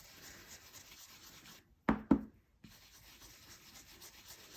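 A stencil is rubbed clean with soft, quiet scrubbing strokes, interrupted by a short pause and two brief, louder rubbing bursts before the gentle rubbing resumes.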